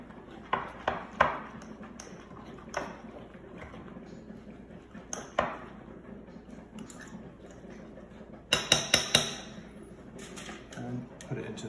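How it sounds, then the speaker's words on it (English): Oatcake batter mixed with water in a jug produces irregular clinks and knocks of a utensil against the container, with a quick cluster of sharper rattles near the end. "Then just give it a mix. Pretty simple, just mix it all up."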